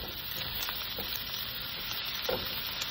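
Carrots fry with onion and garlic in a pan, giving a dense, steady close sizzle and a few soft scrapes as the mix is stirred, with no voices.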